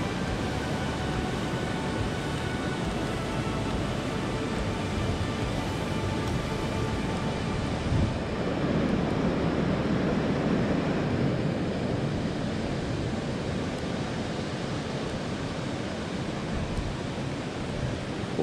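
Water pouring over a canal weir as a small waterfall, a steady broadband rush that stays constant throughout, heard nearby and alone without speech.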